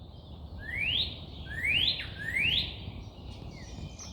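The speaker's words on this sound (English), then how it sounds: "Those birds." Birds chirping outdoors in the dim light before sunrise: three clear rising whistled calls in quick succession from a single distant bird, over a soft steady background hiss.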